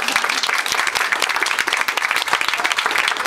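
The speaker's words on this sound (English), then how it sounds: "I hope we can all give her a nice round of applause" Graduation audience at a language school applauds a student named Caroline, sustained crowd clapping that stays dense and even throughout, fairly loud and close with no clear speech.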